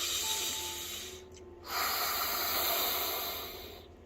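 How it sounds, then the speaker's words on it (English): One slow, deep breath drawn in and let out, a breathy hiss that swells, dips briefly, then rises again and fades, close and alone. "Deep breath."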